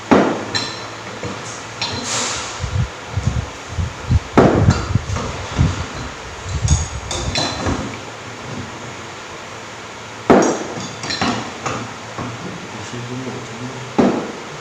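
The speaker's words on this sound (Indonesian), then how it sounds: "Kita kencangkan pengikatnya." Metal clinks and knocks of tools tightening three fastening bolts on a pinion gear during a power-train overhaul in a workshop; irregular taps and clanks, sharper bursts near the start, middle and end, with faint voices.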